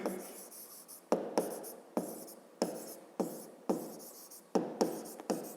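Pen writing a speedometer scale's division value on paper, heard up close as a quiet run of scratchy strokes with distinct sharp onsets, regular and isolated.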